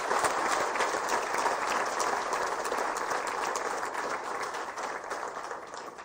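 Steady, dense audience applause at an awards ceremony for a competition, a crowd clapping continuously throughout, loud and fairly close, fading slightly toward the end with no talk over it.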